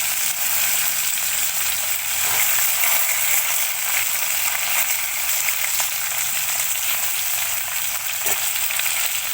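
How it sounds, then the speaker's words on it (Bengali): Broad beans fry in hot oil with a steady, loud, close sizzle that runs throughout, with faint scrapes and occasional soft clicks but no talking. "দেখো আমি শিমটা ভেজে নেব।"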